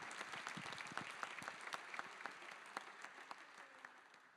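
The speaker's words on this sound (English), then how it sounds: "I'd like everyone to give a huge round of applause to this amazing panel." Applause from a conference audience for a closing plenary panel, many individual claps crackling steadily for about four seconds at moderate, somewhat distant level.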